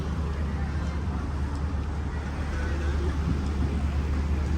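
Road traffic in Bhiwandi while vehicles are stopped: a low, steady engine rumble of cars and heavier vehicles idling close by.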